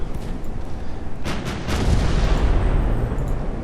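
A warship's main guns firing a salvo in the naval game Ultimate Admiral: Dreadnoughts: several overlapping booming shots and rumbling blasts, loud and sustained, with no talking.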